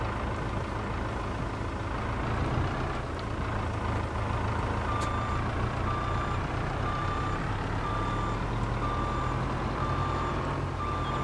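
A truck's reversing beeper sounds in Farming Simulator 22, a regular series of evenly spaced beeps over a steady engine rumble that carries on throughout.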